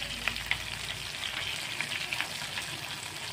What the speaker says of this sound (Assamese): এতিয়া এটা এটাকৈ ভাত কেৰেলা বৰা ওলোটাই দিওঁ।